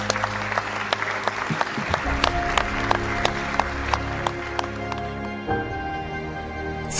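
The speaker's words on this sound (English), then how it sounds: "That is an applause around Kenilworth Road." A football crowd applauds around Kenilworth Road, sustained clapping spread through the stands with a steady texture, while sustained music tones run underneath and shift partway through.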